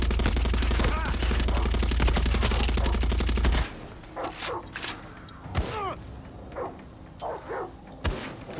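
Rapid video game gunfire opens with a dense automatic burst for several seconds, then gives way to scattered single shots and sharp impacts at irregular intervals.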